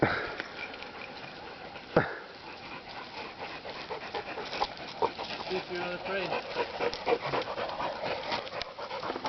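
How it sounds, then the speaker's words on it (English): Dogs sniffing and panting up close outdoors, rapid snuffling bursts and breathy pants continuing throughout, with one sharp knock near the start and people talking over them. "here comes some dogs right by me"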